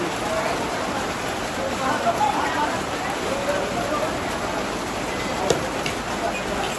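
Steady rain falls, a dense, continuous hiss of drops on surfaces with an occasional sharper patter. Faint voices can be heard under the noise.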